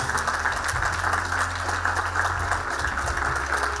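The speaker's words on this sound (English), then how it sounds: "Please give a round of applause." Audience applause at an international management conference session: a steady patter of clapping from a room of people over a low hum, moderately loud and continuous, easing slightly toward the end.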